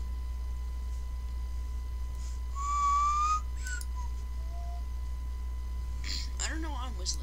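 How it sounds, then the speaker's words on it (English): A person whistles a short tune for about a second during a Roblox Phantom Forces shooter session, with faint game sounds and brief chirpy tones around it and a steady low hum underneath. "I don't know why I'm whistling."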